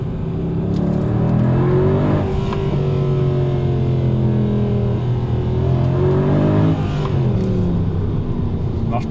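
A Mercedes C63 AMG Performance pack car accelerates hard from inside the cabin, its V8 engine droning loudly with rising gear sweeps and a brief shift dip midway, sustained throughout.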